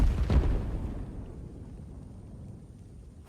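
Poison gas and flame explosions in the video game Divinity: Original Sin II, a loud deep boom at the start that rumbles and fades into a low lingering roar, with a faint crackle at the end.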